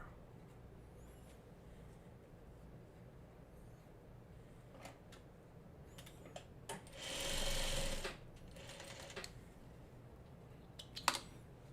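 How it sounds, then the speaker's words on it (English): A sewing machine stitches a Farmer's Wife quilt block, a soft steady whir rising into a louder burst of running, with faint clicks and handling noises around it in a quiet room. "hopefully the sewing will go by faster"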